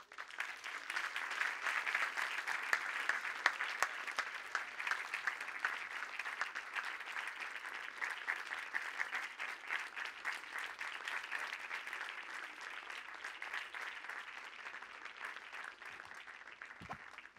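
Sustained audience applause for two podcast hosts at a live event, steady dense clapping throughout that fades slightly toward the end.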